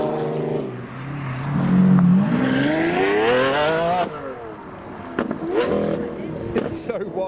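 A Hamann-tuned car accelerating away from a car show on a narrow road, engine note climbing through revs in a rising pull, loud and close, then shifting and fading; people talk over it.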